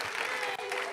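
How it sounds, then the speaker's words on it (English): Brief burst of audience applause at a panel on Bay Area women filmmakers, dense steady clapping from a modest crowd, with voices mixed in. "Huge round of applause for women filmmakers"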